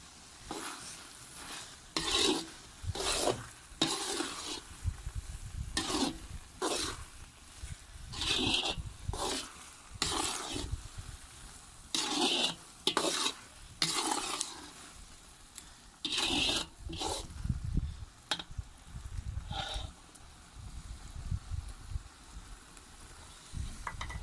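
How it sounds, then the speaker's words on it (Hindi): Carrot halwa being stirred in a pan with ghee, repeated rhythmic scraping strokes of a spoon over a soft sizzling background, fairly quiet, with brief pauses between bursts. "अब हम इसमें थोड़ा सा घी डालेंगे।"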